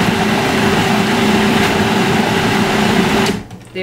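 A blender churns horseradish at full speed with a loud, steady motor whir, then cuts off abruptly near the end.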